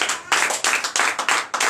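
A church congregation at a night deliverance and prophecy service claps and applauds together, dense rhythmic hand claps pulsing in quick regular beats, loud and full with no speech over it.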